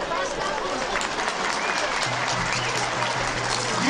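Applause from a crowd at the Seydikemer oil wrestling festival in Muğla, a continuous loud clapping wash with a steady low hum underneath and a voice over a loudspeaker.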